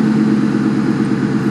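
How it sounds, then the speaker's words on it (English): A 2002 Ford Mustang GT with the 2V V8 and 44 series exhaust runs steadily nearby, a loud, even low rumble holding a constant pitch throughout. "I don't know if you can hear me over Little Red Stang"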